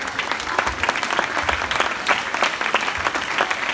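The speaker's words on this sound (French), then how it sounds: "on va demander à l'équipe de hand fauteuil de venir nous rejoindre, s'il vous plaît, sous vos applaudissements bien évidemment" A club audience at a season presentation applauds the wheelchair handball team, with many distinct, crisp claps in an even, sustained round at moderate loudness.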